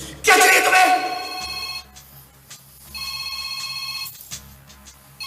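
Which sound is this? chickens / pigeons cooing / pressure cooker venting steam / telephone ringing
telephone ringing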